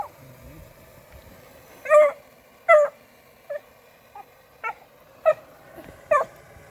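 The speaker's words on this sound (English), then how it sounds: "trying to be a hound dog" A dog yips and howls like a hound on a farm, a series of about seven short, clear high-pitched cries spaced a second or so apart against quiet surroundings.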